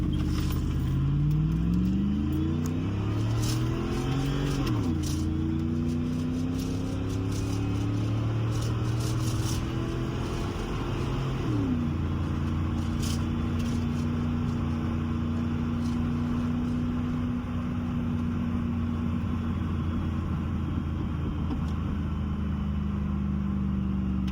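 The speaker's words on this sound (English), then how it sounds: "Gonna give it some gas and launch it." A Chevrolet Silverado 5.3 4x4 pickup with 4.10 gears pulls away from a stop, the engine note climbing through two upshifts before settling into a steady drone, heard from inside the cab without any talking.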